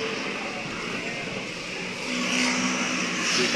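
Cars creeping slowly through heavy traffic jam near Monte Vista, a dull continuous road rumble and engine hum heard from close by, swelling a little toward the end, with a voice talking over it.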